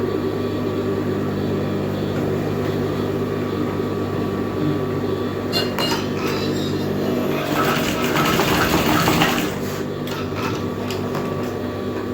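A sewing machine runs steadily as it stitches along the edge of a flared skirt, its constant motor hum staying near and even, rising a little in the middle before settling back.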